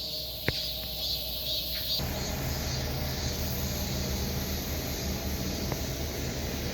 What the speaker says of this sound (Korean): 매미 소리 들리죠?